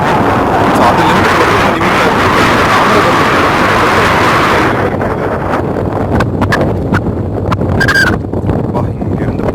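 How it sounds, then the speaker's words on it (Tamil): Strong wind gusts across the open water at Manimuthar Dam, roaring into the microphone as loud continuous buffeting, while waves churn beneath and a few faint knocks sound. "காத்து பலமா வீசுது, அதனால அலைகள் நல்லா அடிச்சிட்டு இருக்கு"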